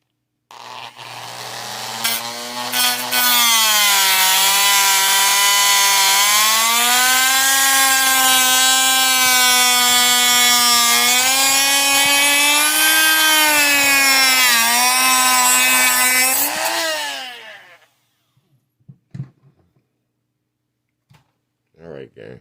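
A rotary cutting tool slicing into a 1/24-scale Jada diecast model car gives a loud, sustained high-pitched whine that wavers slightly in pitch for about fifteen seconds, then winds down and stops, leaving a few faint knocks.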